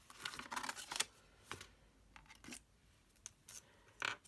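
Paper is trimmed with scissors in crisp, close snips, a few quick cuts then spaced single cuts, in a quiet room with no speech.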